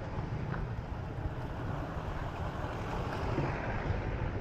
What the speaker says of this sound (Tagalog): Malakas lang din yung hangin eh